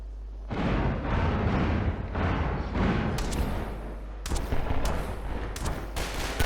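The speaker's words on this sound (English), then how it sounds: "They're actually shooting through the water." Gunfire shoots through water in Half-Life 2, with loud bursts of rapid shots, short pauses between them and sharper crackling volleys toward the end.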